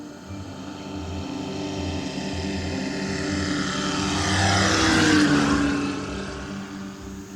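A slow-flying paramotor drones steadily over forest in Central Kalimantan, Borneo, its propeller engine building gradually louder toward a close pass before easing off again, with no voices.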